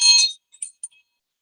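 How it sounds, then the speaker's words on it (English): An old hand school bell from 1893 gives one bright ringing strike that quickly fades, followed by two faint metallic tinkles, with silence after. "This is actually Dr. Baylor's bell that he rang in 1893 on the very first day of classes for those 31 students who began."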